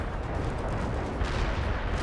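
Dense, rumbling artillery barrage explosions in World in Conflict, a continuous low roar of overlapping blasts at moderate distance, heard alone with no talk.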